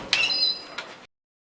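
Wooden gate door of an old ABIS elevator in Lisbon gives a high, sustained squeak lasting most of a second, with a short scrape toward the end before the sound cuts off.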